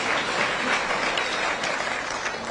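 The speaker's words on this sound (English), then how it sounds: "Please give me a clap." Church congregation clapping during a sermon, a brief burst of many hands applauding together at moderate volume, with no speech over it.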